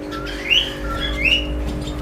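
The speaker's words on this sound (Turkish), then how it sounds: "Burada kanaryalarımız var. Çok güzeller böyle tepeleri var." Two short, bright chirps from canaries, one after another, over a low steady hum in an indoor bird room.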